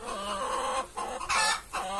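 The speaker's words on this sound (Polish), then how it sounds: "kury zaraz dały się właśnie do dyni" Hens cluck steadily around a pumpkin they are pecking into, their bursts of clucking overlapping close by with a couple of short pauses.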